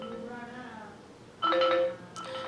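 A OnePlus Nord CE phone's ringtone sounds in short bursts: a soft melodic tone at first, then a louder bright chime that cuts off, followed by a quieter return as the volume is adjusted.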